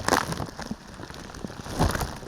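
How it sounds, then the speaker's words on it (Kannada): Heavy rain falls at a temple, a close spattering patter on surfaces with uneven bursts and rustling handling noise over a couple of seconds, no talk heard. "ಏನ್ ಹಿಂಗ್ ಗುರು ಮಳೆ ಅಷ್ಟಿಷ್ಟು ಬರ್ತಾ ಇಲ್ಲ"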